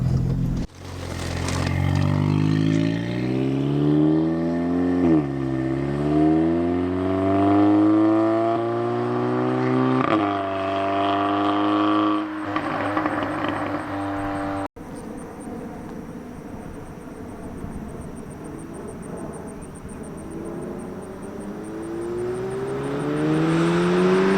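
A turbocharged 500 hp Audi S3 revs hard through rising gear sweeps as it approaches, then roars past close by and fades into a lower, rougher engine note as it drives away, with no talking.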